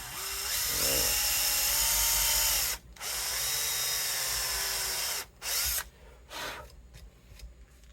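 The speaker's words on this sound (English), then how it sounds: "Cheap drill bits." A power drill with a cheap bit whines steadily for a few seconds boring into a 1970s Gibson Les Paul Custom fingerboard, stops, then gives short bursts before tapering to quiet handling noise.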